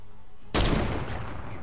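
Gunfire in the Fortnite video game: a sudden loud burst of shots erupts after a quiet moment and rolls on into a dense, sustained rattle of rapid fire with no talking.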